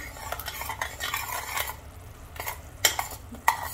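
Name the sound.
stirring ladoo mixture with salt, pepper and ginger powder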